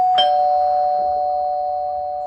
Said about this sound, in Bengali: এমন সময় বাইরে কলিং বেল বেজে উঠল।